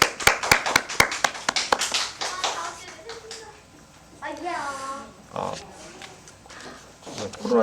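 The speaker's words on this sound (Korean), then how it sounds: "이 시간 박수로 한번 축하 한번 해보겠습니다. 박수." Children at a church service clap in celebration, a burst of sharp, close claps at the start that thins into scattered taps, followed by children's voices and talk.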